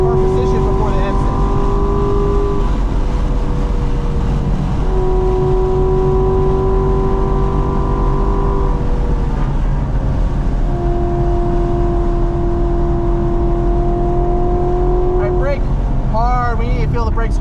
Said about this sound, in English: Now let off and turn in, unwind the wheel, and then now start to accelerate.